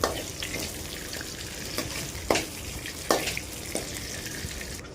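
Cashew nuts fry in ghee with a dense, constant sizzle, punctuated by a few quick clicks and scrapes as they are stirred.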